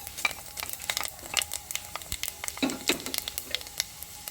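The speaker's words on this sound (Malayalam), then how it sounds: "അപ്പോൾ നമ്മൾ വെളിച്ചെണ്ണ ചൂടായിട്ടുണ്ട് ഇതിലേക്ക് നമുക്ക് കടുക് കൊടുക്കാം കടുക് പൊരിഞ്ഞ് കഴിഞ്ഞ്" Mustard seeds splutter in hot coconut oil while a fish curry is being made, giving a dense, continuous crackle of sharp pops and sizzling, loud and close.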